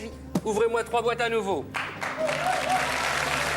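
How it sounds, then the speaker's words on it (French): Studio audience on a French game show breaks into applause after a man's brief spoken exchange, the clapping rising as a dense, steady wash that continues on its own to the end. "On peut l'applaudir, on peut l'encourager"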